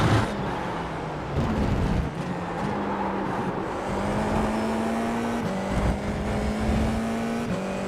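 A race car laps Circuito de Jerez in the iRacing sim, its engine droning loud and close, pitch climbing steadily and dropping sharply at several gear shifts, with faint tire and road noise and no talking.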